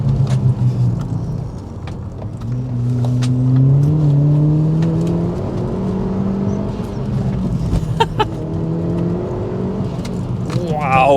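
A Ford Focus RS Mk1 accelerating on the road, its engine note climbing steadily through the gears with a loud, continuous interior drone and occasional knocks. Nobody speaks over it.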